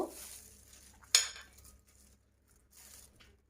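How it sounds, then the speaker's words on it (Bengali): Bread pizza topping ingredients are stirred together in a bowl, with a sharp clank of a spoon against the dish followed by softer scraping and light clinks. "এবার আমি সবগুলো উপকরণ একসাথে মিক্সড করে নিব"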